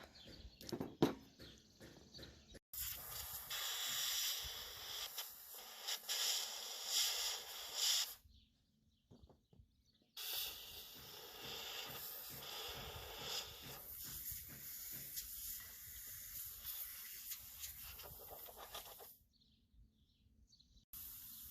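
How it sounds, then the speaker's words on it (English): Compressed air blasts into the engine bay of a riding lawnmower clogged with grass clippings and dirt, a loud hissing spray in two long bursts separated by brief pauses, with quieter rustling before the first burst. "Getting the whole inside of the engine bay all sprayed out with air."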